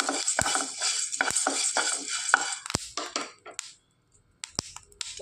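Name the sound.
stirring roasted horse gram and transferring it to a dish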